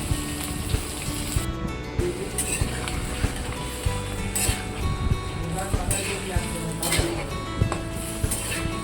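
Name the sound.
chicken and potato pieces added to the pan, sizzling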